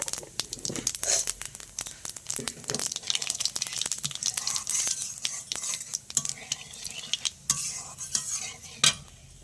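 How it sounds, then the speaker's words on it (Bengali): Cumin seeds and a bay leaf hit hot oil for tempering while a spoon stirs the pan, giving a dense crackling sizzle broken by rapid scraping and clinking strokes, close and busy throughout. "সাদা জিরে আর তেজপাতা একটা আমি ফোড়নে দিয়ে দিলাম"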